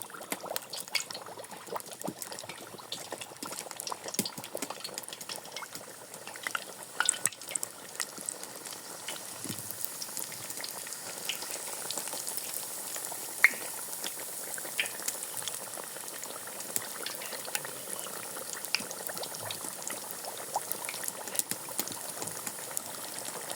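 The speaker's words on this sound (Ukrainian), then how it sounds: "Закидуємо пиріжки в казан." Pies filled with potato and liver fry in hot oil in a kazan, a continuous bubbling crackle with scattered sharp pops, moderately close and with no voices.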